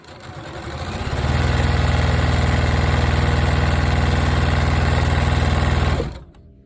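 A sewing machine chain-pieces quilt pinwheel block patches, spinning up from a soft start into a loud, steady rapid stitching hum for several seconds, then stopping abruptly.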